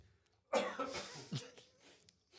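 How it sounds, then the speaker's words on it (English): A single harsh, throaty cough, close and fairly quiet, trailing off into a short rasp. "Cough break."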